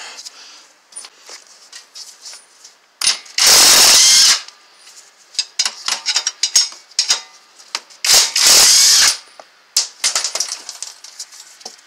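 Impact gun removes the lower strut mount fasteners on a Nissan Altima in two loud whirring bursts about a second long. Ratchet clicks and tool handling fill the gaps between them.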